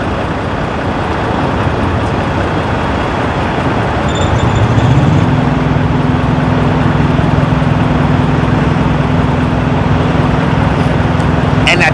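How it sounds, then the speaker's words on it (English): A truck engine idles in a steady low drone with a constant hum that settles in and continues throughout, loud and close, out on the road between Albuquerque, New Mexico and Layton, Utah. "Listen to the truck."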